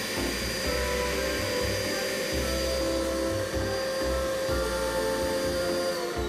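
A Vax Mach 5 upright vacuum cleaner runs with its brush bar on, giving a constant, close motor whine and airy rush with a low pulsing hum beneath, unbroken throughout and with no talk.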